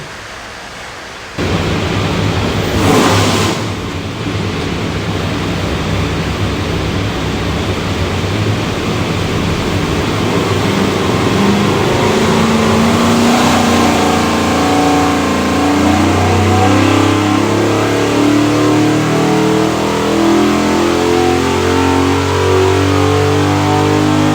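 An '87 Land Rover's 565 hp 408ci LS V8 revs on a dyno in one long, loud continuous pull, its roar rising steadily in pitch over about twenty-three seconds, alone without talk.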